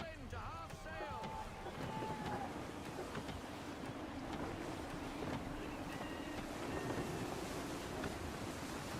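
Gusty wind sweeping over a sailing ship at sea in Assassin's Creed III, a continuous airy rush with waves washing against the hull and faint creaks, under a layer of game ambience.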